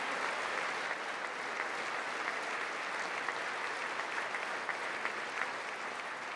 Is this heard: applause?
yes